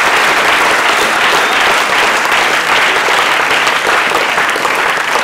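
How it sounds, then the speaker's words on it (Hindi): A close, loud, dense burst of audience applause fills a Hindi Divas event hall, steady and unbroken for several seconds with no talking. "तो मुझे लगता है कि उसके लिए विशिष्ट हमें तालियां बजानी चाहिए।"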